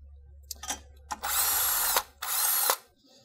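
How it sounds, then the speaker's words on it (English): A cordless drill removing 13 mm bolts from the 12V battery bracket of a Chevy Bolt, with a few brief clicks and then two loud whirring bursts close to the microphone. "To speed up the process, you can always still use like a cordless drill to remove bolts"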